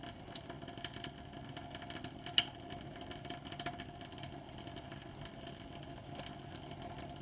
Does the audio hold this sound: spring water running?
yes